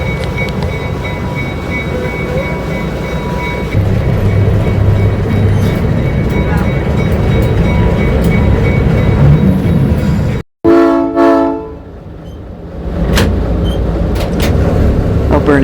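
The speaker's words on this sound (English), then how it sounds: "Richard Spencer, is going to back us up to the passenger trains and going to hook up for testing the line" A heritage train on the Alberni Pacific Railway rumbles and clanks loudly as it backs up to couple with passenger cars, with a steady mechanical drone, a sudden break and metallic squeals before the rumble returns.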